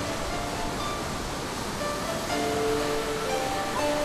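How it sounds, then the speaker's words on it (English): Ocean surf on the Yilan coast near a tombolo makes a steady, broad wash of breaking waves with no distinct surges, and faint tonal notes sit underneath. "Waves dance to the beat of the wind"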